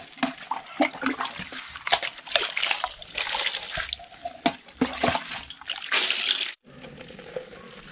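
Water sloshes and splashes in repeated bursts as freshly gathered grubs are rinsed clean in a rural Ilocano setting, close and fairly loud, ending with a sudden drop to a quieter hiss.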